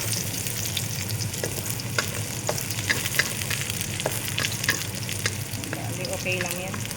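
Garlic, with some onion, fries in a pan, giving a steady close sizzle with scattered crackles and occasional scrapes of stirring throughout.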